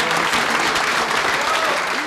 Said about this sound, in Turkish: Evet, bir alkışla Pembe'yi rica ediyoruz lütfen.